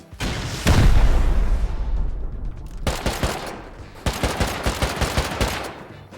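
Explosive ammo gunfire in the Rust video game: a heavy boom with a long rumbling tail, then bursts of rapid, loud shots in quick clusters.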